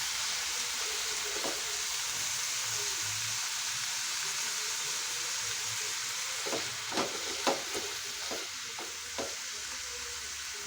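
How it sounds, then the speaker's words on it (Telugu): Cucumber pieces frying in hot oil for a chutney, an even bubbling sizzle throughout with a few sharp knocks and scrapes of stirring toward the end, no voices. "దోసకాయ ముక్కల్ని వేసేసుకొని ఆయిల్లో ఫ్రై చేసేసుకోవాలి"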